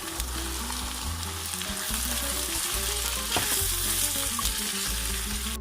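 Beef is fried in a cooked spice paste for Cirebon-style sambal goreng daging. A constant loud sizzle and bubbling sound up close, with occasional stirring scrapes and no talking.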